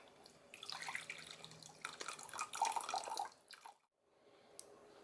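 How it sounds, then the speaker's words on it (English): Water from cooked chicken is drained, pouring and splashing steadily into a sink, fairly close, then cuts off abruptly near the end, leaving quiet with a faint drip. "the water off of that."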